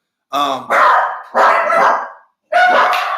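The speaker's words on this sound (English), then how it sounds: "Those are Lauren's dogs barking" Several dogs barking outdoors in loud, close bursts, three separate volleys with short gaps between them.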